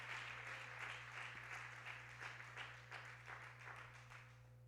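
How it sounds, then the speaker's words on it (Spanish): A church congregation claps in unison at a steady rhythmic beat, roughly three claps per second, heard from a distance under a constant low electrical hum, with little talking. "Si el aplauso fuerte es para el Señor, hermano, dele fuerte al Rey de Reyes"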